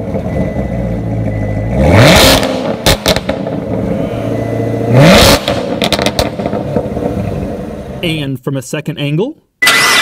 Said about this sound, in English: This is what the new Corvette ZR1 sounds like when it revs up.